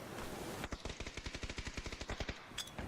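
A P90 submachine gun in a video game fires a rapid, even burst of about twenty shots in under two seconds, sharp and fairly close, with no talk over it.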